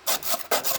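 Surface rust being scrubbed off a 23-year-old Land Rover Discovery TD5, two quick, close, harsh rasping strokes in under a second.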